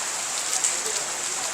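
Steady rain falls in the streets of Lahore's Walled City near Delhi Gate and Mochi Gate, a soft, even hiss with a few faint drop patters and no distinct voices.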